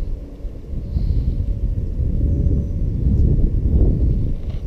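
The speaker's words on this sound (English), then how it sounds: "Wind is picking up." Wind gusting outdoors along the San Antonio River during winter bass fishing, a steady low rumbling roar of buffeting against the microphone that swells slightly toward the end, with no talking.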